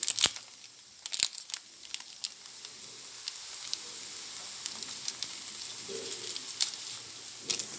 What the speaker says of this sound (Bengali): এখন আমি দিয়ে দিচ্ছি নুডলসের প্যাকেটে থাকা সেই মশলাটা